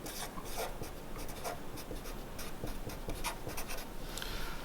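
A pencil tip tapping dots onto paper for pointillism shading, a steady stream of quick, light ticks at close range with no voices.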